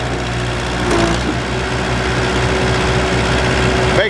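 A More Monster wood splitter runs at a steady high-pitched engine drone with a whining tone, a brief rise around a stroke and a sharp burst near the end as wood gives way, loud and close.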